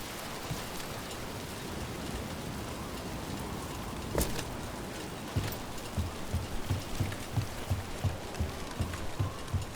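Rain falls in the video game Dragon Age: The Veilguard as a faint, steady wash, with soft low thumps pulsing through the second half.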